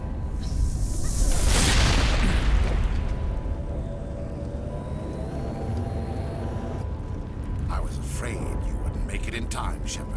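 A grenade goes off in the Mass Effect video game: a loud, broad boom near the start swells and then trails off into a long rumbling decay, with further bursts of combat noise later and speech in the game's soundtrack.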